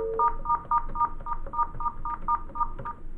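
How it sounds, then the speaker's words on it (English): A Cisco desk phone dials a number, sending a rapid string of about a dozen short, evenly spaced DTMF keypad tones, clear and close with a faint background hiss. "by dialing the number yourself"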